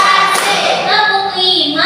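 Rhythmic hand claps from a group in a classroom counted clap routine, with voices chanting along throughout.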